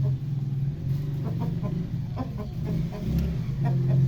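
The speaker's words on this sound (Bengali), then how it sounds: "গতকাল আমি এই দুটো মুরগি এনেছি," Chickens of parrot-beak and fighter breeds cluck close by, low repeated calls over a steady background hum, with no talk.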